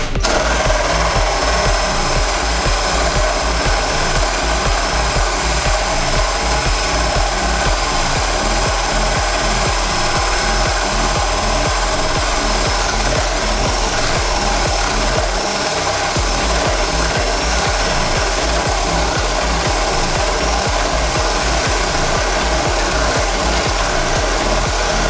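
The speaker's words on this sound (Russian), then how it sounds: "Давайте сначала попробуем досверлить эту дырку" A Firecore FED-21A cordless drill drills a hole, running hard and continuously, its rapid hammering whir steady and loud throughout, with no voices.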